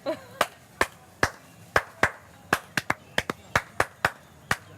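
Sharp single hand claps ring out in an uneven rhythm, about fifteen crisp claps, fairly close with a little room echo and no talking.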